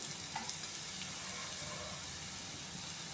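Sliced sweet potato frying in ghee left over from roasting cashews and raisins, a constant close crackling sizzle with faint stirring, alone with no voices.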